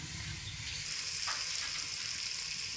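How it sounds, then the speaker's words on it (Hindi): Cubed tomatoes with ginger and masala frying in ghee, a steady close hiss and crackle of sizzling that holds throughout without any talk. "और टमाटर क्यूब्स में काटे हुए, इनकी अच्छी तरह भुनाई कर लेनी है।"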